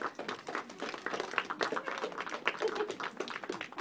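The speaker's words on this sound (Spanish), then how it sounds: "Un aplauso entonces para nuestro Señor Jesucristo." An audience claps in a dense, even patter of hand claps at a children's school graduation ceremony held with a religious service. The applause is moderately loud and sustained throughout.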